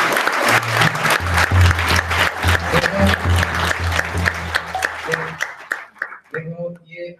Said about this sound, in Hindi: इसलिए जोर से ताली बजाएंगे।